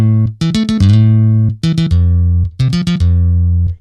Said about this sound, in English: But this bass is layered with another bass preset,